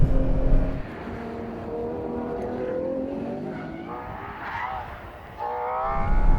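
A Ferrari 812 Competizione is driven on the Fiorano track, heard from on board. The engine note is loud and climbs in pitch under acceleration, drops briefly around a shift, then swells again.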